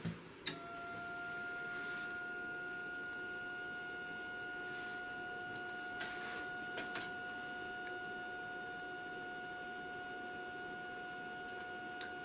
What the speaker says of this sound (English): But you can see that the motor is running.